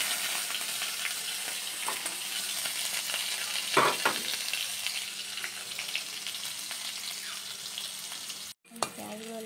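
Chopped onion and whole cumin seeds fry in hot oil with a steady, close sizzle, broken by a brief stirring scrape midway and a short pause near the end.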